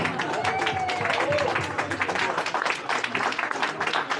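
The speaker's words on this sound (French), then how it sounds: "Elle mérite vraiment vos applaudissements" An audience applauds at a book launch vernissage in Beijing, a dense sustained patter of many hands clapping, loud and close, with voices and a brief whistle-like tone mixed in early on.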